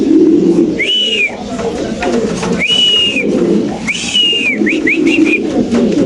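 White Spanish pigeons coo in a series of clear rising whistled calls, several in a row over a steady background hum at a loft.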